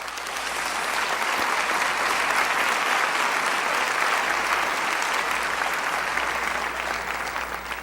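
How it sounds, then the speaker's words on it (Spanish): A church congregation applauding during a Spanish-language sermon, giving sustained, dense clapping that swells and holds for several seconds before easing slightly. "Denle un aplauso al Señor esta noche."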